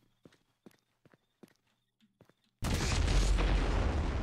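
A firework rocket in the Feuerwerk Simulator game bursts with a sudden loud, roaring blast that stays dense and rumbling to the end, after a few faint scattered taps and clicks.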